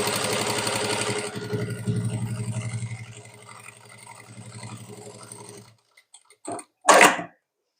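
An electric sewing machine stitches saree pleats in a steady buzzing run that lasts several seconds and then stops, followed by a few faint taps and a short rustle of fabric.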